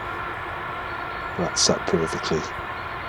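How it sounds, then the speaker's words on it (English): A steady low rumble of a train passing in the background, continuous throughout, while a person speaks briefly over it. "the train you can hear in the background"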